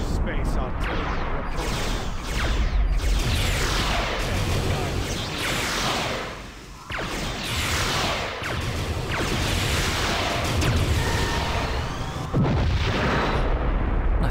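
Hyperspace artillery explosions in the space strategy game Star Trek Armada II: Fleet Operations, a dense run of booming blasts and bursts layered over one another, loud and continuous, with someone talking over them.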